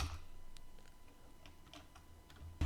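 Keys on a computer keyboard are tapped in a short, uneven burst of light clicks, fairly close and clear, ending with a louder thump.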